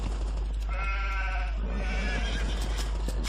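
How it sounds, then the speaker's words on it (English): Sheep bleating in Age of Empires 2 HD, two drawn-out wavering bleats in quick succession, clear and close over a low steady background hum, with no talk. "Finally I found my sheep"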